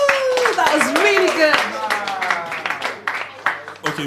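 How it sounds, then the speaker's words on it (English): Audience applause at a live media engagement session breaks out with scattered claps beneath loud whoops and voices, fairly close and lively for a few seconds. "Round of applause."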